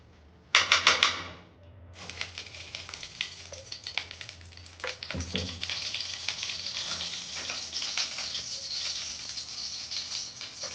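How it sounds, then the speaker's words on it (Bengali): Ghee hitting a hot kadai for carrot halwa: a sharp burst of sizzling, then a steady crackling fry that carries on close and moderately loud, with occasional clinks of utensils. "কড়াটা আমার গরম হয়ে গেছে, এবার আমি ঘি দিয়ে দেবো"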